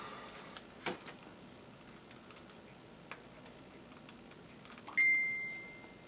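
A quiet room with scattered faint clicks and taps, then a single bright phone notification chime rings out near the end and slowly fades.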